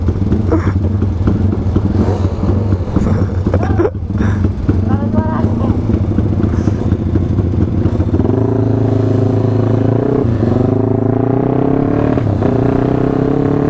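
A Suzuki Satria two-stroke motorcycle, fitted with a 240cc two-cylinder engine, revs loudly and close by. Its rising and falling engine note crackles and buzzes throughout while people talk over it.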